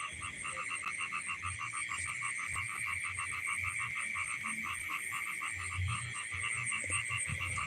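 At night outdoors near fishing water, frogs croak in a fast, regular pulsing chorus that keeps going without a break, faint and somewhat distant over low rumbling background noise.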